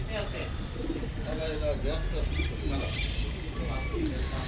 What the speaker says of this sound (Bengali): এ হচ্ছে জয় ভাইয়ের কবুতর এবং ওনার রেজাল্ট করা কবুতরগুলো